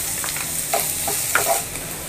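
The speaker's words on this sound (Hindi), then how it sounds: "आपके साथ थोड़ा सॉटे करेंगे।" Green chili, spring onion greens and capsicum sauté in a pan for baby corn, giving a steady soft sizzle with light scraping stirs.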